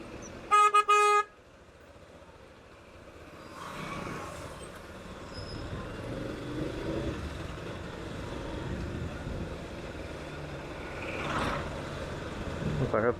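A loud car horn blares for about a second, then a steady rumble of idling and crawling vehicles in a congested traffic jam near Edathua church in Kerala, where a tourist traveller van waits.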